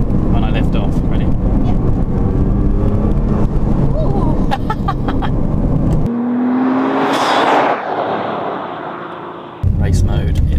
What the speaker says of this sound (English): listen to the turbo noise when I lift off